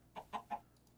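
Chicken clucking in the Minecraft video game: three short, close clucks in quick succession, then a couple of faint higher chirps trailing off.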